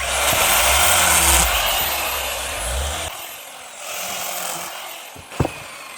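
Firewood being sawn outdoors in damp, wet weather: a steady, loud mechanical saw drone for the first half, easing to a quieter rasp, with a sharp knock near the end.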